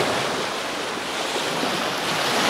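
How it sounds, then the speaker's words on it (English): Soft ocean waves roll in on a calm, flat sea at a beach, a steady broadband wash with gentle swells and some wind, no talking. "Little soft waves coming in."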